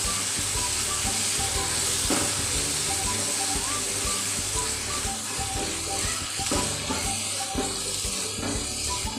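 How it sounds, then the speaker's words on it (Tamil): Grated coconut and mint leaves sautéing in a pan for mint chutney, a steady broadband sizzle with scattered scraping stir knocks throughout, close and continuous with no talk. "அது கூட ஒரு 1/2 மூடி தேங்காய் துருவினது எடுத்து சேர்த்து நல்லா கிண்டி விட்டுக்கலாம்."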